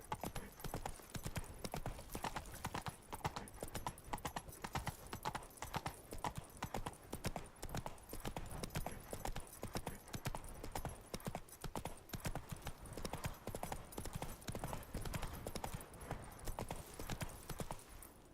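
Steady clip-clop of Geralt's horse Roach trotting in The Witcher 3: Blood and Wine, a continuous rhythmic hoof beat close and prominent over a faint musical and ambient bed, with an occasional whinny.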